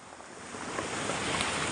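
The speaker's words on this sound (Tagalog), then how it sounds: "maingay na nga yung alon" Broad, rushing wash of ocean surf beside a coastal highway that swells and stays loud, with wind buffeting the microphone.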